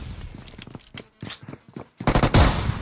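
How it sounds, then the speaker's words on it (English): A flashbang grenade going off in PUBG Mobile during a competitive scrim: bursts of rapid gunfire, then a sudden loud broadband bang with a hissing ringing tail. "Here comes the flashbang"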